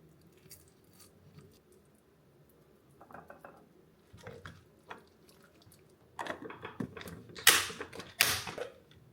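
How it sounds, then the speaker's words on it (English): Milk being stirred into a meal prep mixture in a bowl, heard as soft scraping and clinking that builds to louder, busier stirring near the end, close up with no talking. "So half a cup of milk of choice. Now we mix it. Mix and mix."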